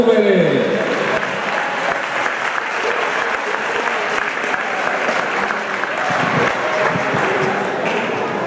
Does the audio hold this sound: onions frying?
no